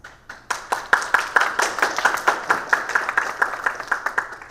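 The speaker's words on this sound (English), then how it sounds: "So take a moment to give yourself a round of applause." Enthusiastic applause from a crowd, dense overlapping claps building quickly and holding steady throughout, fairly loud and close.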